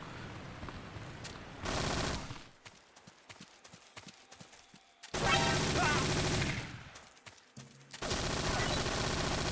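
Video game gunfire from Metal Gear Solid 3 comes in three loud rapid bursts, with quieter gaps of scattered shots and game noise between them.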